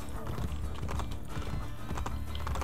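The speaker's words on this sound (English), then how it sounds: "I wish the horses had better galloping." Horse hooves clip-clop at a gallop in the video game Assassin's Creed Brotherhood, a steady rapid rhythm of close thuds continuing throughout over a constant rumbling game background.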